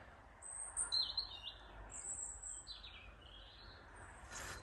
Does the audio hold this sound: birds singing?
yes